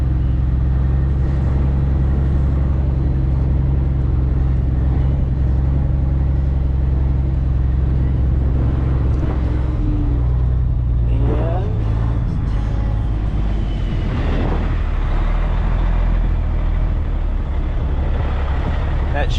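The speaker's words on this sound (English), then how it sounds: "We're gonna keep the truck on the lane so we're on hard ground." A truck drives along a firm farm lane beside a wet, rain-soaked field, its engine rumbling steadily and loudly in the low range throughout, with some shifting road and tire noise partway through.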